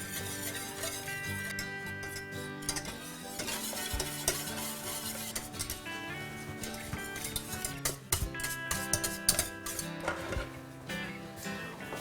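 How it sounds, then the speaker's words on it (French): A spoon works steadily through a thickening strawberry cake mixture in a pan back on the heat, with continuous scraping, clinks against the pot and a faint sizzle underneath, and music playing throughout. "Mélangez bien jusqu'à ce que le mélange épaississe."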